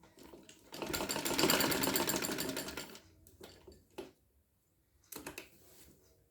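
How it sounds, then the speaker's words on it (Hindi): Sewing machine stitching dori piping onto the chalk and daman of a kameez, a steady rapid mechanical whir for about two seconds, then short bursts of stitching with pauses, close and alone. "इस तरह से मशीन में रखेंगे और यहाँ से बैक साइड की तरफ से हम सिलाई कर देंगे।"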